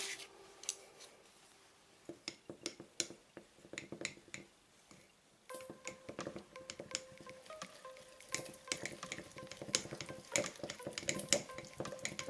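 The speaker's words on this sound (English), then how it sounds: "we're going to mix it all together," Bread dough ingredients being mixed together in a bowl, giving scattered clicks and scraping taps that grow busier and louder partway through, close up with no talking.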